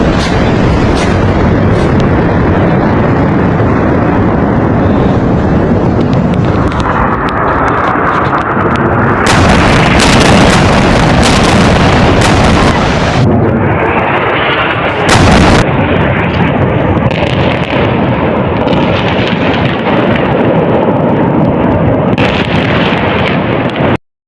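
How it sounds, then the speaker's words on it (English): Loud, close booming artillery fire and explosions from a bombing roll on continuously, with heavy wind rumble on the microphone and sharp bursts of blasts partway through. "The bombing of the Haydat was loud and big"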